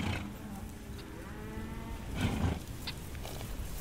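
Cattle on open ranch lands during a fall gather at Sheep Creek: a few low, drawn-out moos rise over a steady outdoor background, moderately near and without speech.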